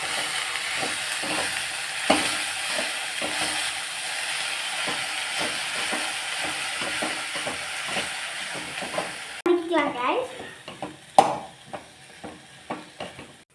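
Food sizzles and crackles in a pan while being stirred for coriander chutney, with rhythmic scraping strokes; the stirring becomes louder and choppier near the end.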